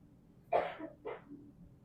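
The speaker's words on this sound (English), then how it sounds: "I feel you with that cough." Two quick, close coughs from one person in a quiet room, the first sharper and louder than the second.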